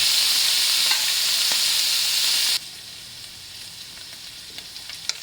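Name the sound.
ground pork frying and sizzling in a pan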